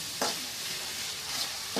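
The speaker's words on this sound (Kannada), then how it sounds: "ಇದನ್ನು ಸಹ ಚೆನ್ನಾಗಿ ಫ್ರೈ ಮಾಡ್ತಾ ಇದ್ದೀನಿ." Spring onions and a little chopped onion fry quietly in a pan, a soft steady sizzle broken by a few brief scrapes of a stirring spoon, with no talking.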